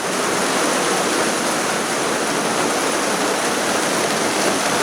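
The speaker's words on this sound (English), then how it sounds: "That's the most rain we've had in 6 months." Heavy rain pours down in a dense, continuous hiss, a loud, even roar of water that holds steady with no breaks.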